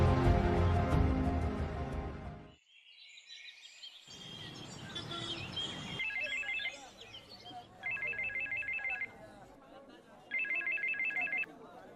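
An electronic phone ringtone trills in three repeated bursts, with short pauses between them, after a loud musical stretch and some chirpy background sounds.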